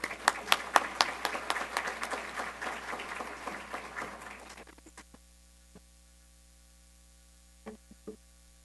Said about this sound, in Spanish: un aplauso merecido a la maestra Gabriela Lecona